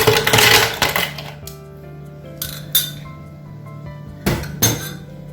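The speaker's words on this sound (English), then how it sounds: "I'm gonna add my crushed ice." Crushed ice for a pineapple banana shake clatters and rattles into a container, a loud burst followed by several sharp clinks and knocks, with no talking.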